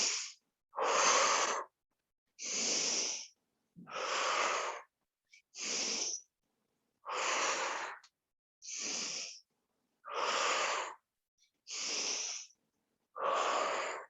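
Heavy, deliberate breathing during a mat exercise workout, about ten loud, close breaths in a steady rhythm, each a full rushing inhale or exhale separated by short silences, with no talking.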